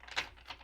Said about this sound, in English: I'm going to give this a few more shuffles